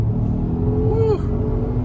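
An Infiniti Q50 accelerates hard, its engine rising in a strong rumbling pull heard from inside the cabin, with the pitch climbing briefly before settling.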